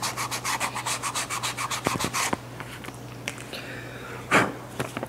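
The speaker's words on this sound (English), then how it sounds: "Do a quick little sanding in that." Sandpaper rubs over leather being prepared for a tri-fold wallet in quick, even back-and-forth strokes, a dozen or so rhythmic rasps up close, then a few scattered scrapes and light handling sounds.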